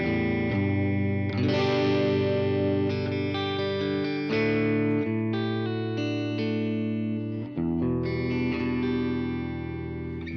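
Electric guitar played through an amp with the middle pickup selected, ringing chords sustaining with a chimey, lightly effected tone and a few pauses between changes, loud and close with no talking.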